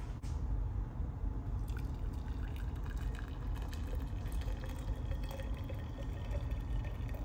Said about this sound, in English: then I'll add my hot water